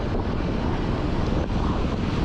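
Strong wind buffeting a microphone during a long-distance bike ride near a Davao Oriental park, a constant loud low roar with gusty rumble throughout, no speech.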